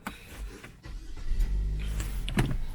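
A Renault Samsung QM6 gasoline SUV starts up: a brief electric whir and a starter crank are followed by the engine catching into a low, steady idle rumble heard from inside the cabin.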